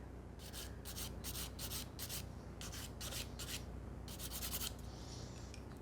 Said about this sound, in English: I think it's almost ready for a buffing.